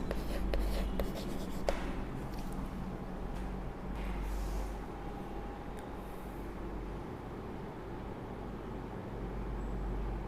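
A teacher writes an answer by hand during a primary school maths lesson, a steady scratchy writing sound over a constant low room and traffic hum, with a few sharper taps near the start.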